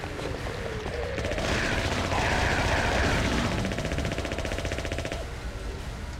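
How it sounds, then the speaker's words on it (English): Sustained automatic weapon fire in Silent Hill 3, a continuous rapid rattle lasting the whole stretch at a steady, fairly loud level with no voices over it. "You guys are no match for unlimited ammo, a fully automatic weapon."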